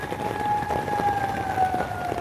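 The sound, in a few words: tornado sirens outside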